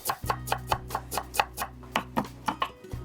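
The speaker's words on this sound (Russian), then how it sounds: "Мелко порежу небольшой пучок укропа." A knife finely chops a small bunch of dill on a cutting board, about a dozen sharp, even strokes, close and clear over a low background hum.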